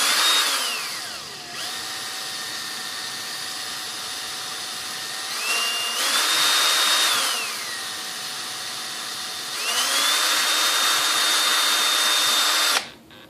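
A power drill whines loudly in three long bursts while drilling a hole in a composite sailplane model's wing for aileron servos, its pitch rising as it spins up and dropping as it bites into material, with no voices.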